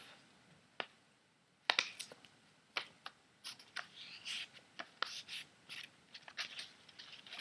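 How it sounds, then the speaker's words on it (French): Adhesive tape is pulled from the roll and pressed down to join two paper parts in a butterfly craft, giving close, crackly bursts and sharp snaps in irregular clusters with short quiet gaps. "Je prends mon ruban adhésif."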